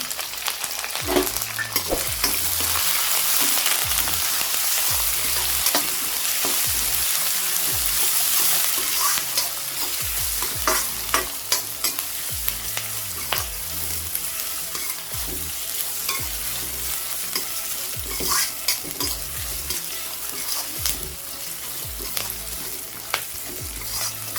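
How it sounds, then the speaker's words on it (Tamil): Onions, dried and green chillies, curry leaves and cashews sauté in a pan for coconut rice, giving a steady close sizzle broken by repeated scraping strokes of a spoon stirring throughout, with no voices. "கொஞ்சம் வதங்கட்டும். வெங்காயம் நல்லா வதங்கிருச்சு."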